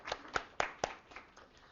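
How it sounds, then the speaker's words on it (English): A handful of people in a workshop on research collaboration clap in a sparse, even rhythm of about four crisp claps, then trail off into faint scattered taps. "give yourselves a hand. We like to clap in the theater"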